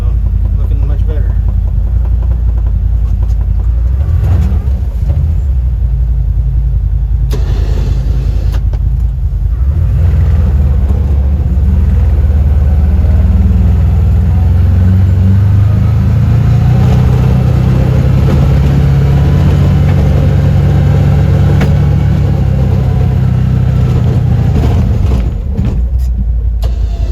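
A CFMoto UForce UTV engine runs steadily up close while plowing a gravel driveway, a loud continuous low drone rising in pitch partway through as it climbs a small hill, with a person talking over it.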